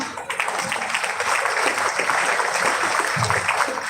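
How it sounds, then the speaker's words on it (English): An audience claps steadily for a panel of speakers, a dense even patter of applause from many hands that holds for several seconds. "I think we should clap for our panelists."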